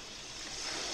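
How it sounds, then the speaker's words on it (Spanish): Steady broadband wash of ocean waves played from a bedside sound machine, a continuous soft surf hiss that swells slightly toward the end, faint and unbroken with no talk. "Que estas son olas."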